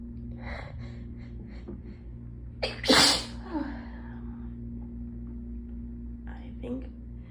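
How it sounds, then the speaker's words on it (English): A single sharp, explosive human sneeze bursts out after a short pause, preceded by breathy whispering and followed by a faint exhale, close and moderately loud. "No, I'm gonna sneeze."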